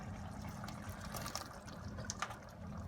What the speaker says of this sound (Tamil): இப்போ இது நல்லா கொதிக்குது.